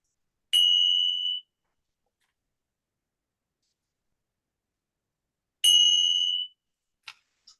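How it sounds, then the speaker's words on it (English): Two separate meditation bell strikes, each a clear ringing tone that sustains and fades over about a second, with a long stretch of silence between them and a couple of faint clicks at the end. "we'll listen to the bells until you can't hear them anymore"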